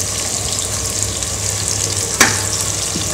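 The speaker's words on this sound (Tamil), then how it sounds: "இப்போது பிரியாணி தாளிக்கலாம்." Whole spices, cinnamon, cloves, cardamom and bay leaf, fry in hot oil for a South Indian chicken leg piece biryani, giving a steady close sizzle with one brief louder crackle near the end and no talk.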